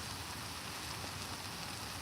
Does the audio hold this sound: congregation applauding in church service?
no